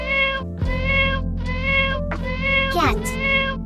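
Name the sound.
cat meowing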